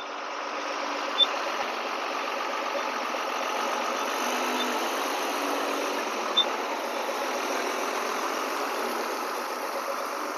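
A 12-wheel highway tipper truck's diesel engine runs steadily at an auction yard in Cuttack, a continuous loud mid-pitched idling rumble with no talk and a couple of faint clicks.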